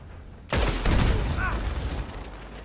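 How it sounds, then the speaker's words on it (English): In Red Dead Redemption 2 Online, a single loud gunshot cracks out of near silence and fades into a long, booming echo. "I'm gonna shoot that son of a bitch."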